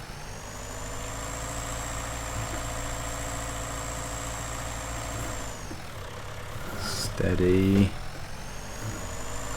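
Tractor engine idling in a farming video game, a steady low drone with harmonic hum that shifts pitch partway through and swells briefly near the end, with someone talking over it.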